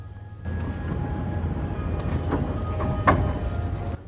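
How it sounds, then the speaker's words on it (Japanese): A local JR Hachikō Line train bound for Hachiōji arrives at platform 3 at Komagawa Station: a steady rolling rumble of wheels and cars at moderate volume, with a brief clank near the end. "3番線には八王子方面の電車が到着"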